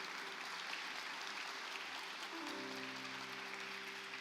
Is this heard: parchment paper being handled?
no